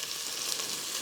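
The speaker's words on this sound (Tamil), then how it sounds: "வெங்காயம் கொஞ்சம் நல்லா வதங்கட்டும்." Onions sautéing in a pan for a mutton chops masala, a soft steady sizzle of frying throughout, faint and close, with no voices.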